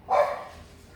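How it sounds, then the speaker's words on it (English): A French bulldog gives a single sharp, close bark indoors, loud and brief with a short fading tail. "The pool guy's here and my dog is going nuts."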